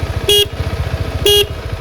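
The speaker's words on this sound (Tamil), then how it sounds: "இதுதான் ஹாரன் சவுண்டுங்க" Two short, sharp beeps of a 2024 KTM 390 Adventure motorcycle horn sound close by, evenly spaced over the idling engine's steady putter.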